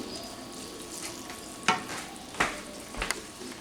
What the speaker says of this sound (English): we're just going to let this slow simmer here while we wait for our noodles to get done